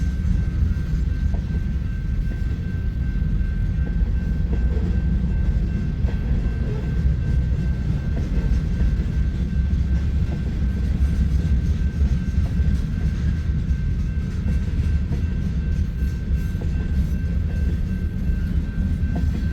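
A freight train rolls past steadily with a mid-train DPU locomotive that runs rough, giving a continuous loud low rumble and wheel noise for the whole stretch as it picks up a little speed, with no voices.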